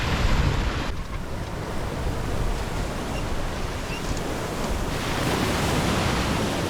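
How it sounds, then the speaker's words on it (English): Strong wind and breaking sea waves buffet a sailing boat along the Icelandic coastline, a loud, steady roar of rushing air and surf that never lets up, with no voices. "We surfed our way into the open coastline. And sure enough, we got all the wind we could wish for."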